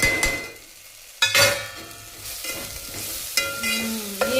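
Homemade masala with salt, turmeric, coriander powder and Kashmiri red chilli roasting in a pan for sambar, a close sizzle punctuated by several sharp spoon strikes and scrapes as it is stirred, no speech.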